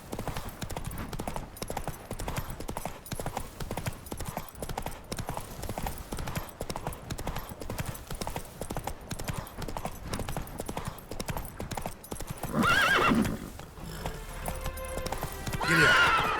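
Horse hooves clip-clopping at a steady galloping rhythm in The Witcher 3: Wild Hunt, continuous and fairly loud across the whole stretch, with brief louder bursts near the end.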